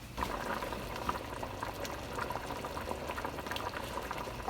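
Water comes to a rolling boil in a covered pot on the stove before rice is added, a continuous soft bubbling and gurgling with no voices.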